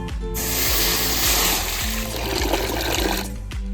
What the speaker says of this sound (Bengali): চানাগুলো সিদ্ধ করার জন্য জল দিয়ে দিচ্ছি।